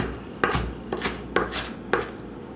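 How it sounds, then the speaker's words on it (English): Green onion finely chopped with a knife on a cutting board for chapli kabob, four distinct crisp knife strikes spaced about half a second apart, close and clear with no talk. "I'm just gonna give it one more fine chopped here."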